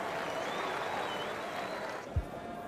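A cricket crowd at the Gabba applauds during a 1997 one-day international, with sustained distant clapping and crowd noise that fades slightly, ending with a brief low thump.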